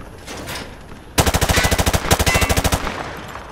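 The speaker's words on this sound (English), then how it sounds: "Grab that weapon off the table and fire at the targets behind you." Machine gun fire in Call of Duty Modern Warfare 2 aimed at targets: a sudden, loud rapid burst of about twenty evenly spaced shots lasting roughly two seconds after a quiet start.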